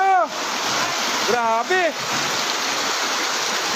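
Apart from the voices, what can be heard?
rushing floodwater with heavy rain during typhoon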